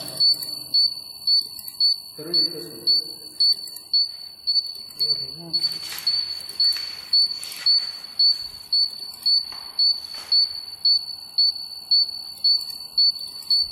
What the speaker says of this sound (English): the buzzer is turned on, indicating the signal